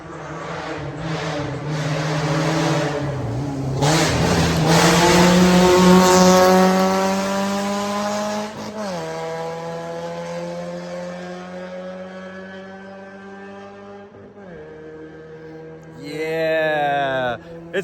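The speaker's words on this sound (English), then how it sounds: "Oh, the sound of race cars." Race cars roar loudly past, engines rising and falling in pitch as they speed by, with another car screaming through near the end.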